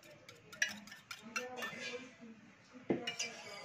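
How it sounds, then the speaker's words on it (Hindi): A whisk clinking against a bowl while mixing buttermilk and curd for lauki raita, light irregular metallic taps and scrapes, fairly faint and close, with a sharper clank near the end. "दोनों को मिक्स कर लेंगे"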